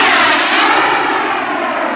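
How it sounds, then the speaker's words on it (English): An HSD Jets T-45 Goshawk RC jet with a Swiwin 80 turbine roars loudly and steadily close by, a continuous broadband turbine whine and rush with no voices over it. "What turbine is that in there again? That's a Swiwin 80."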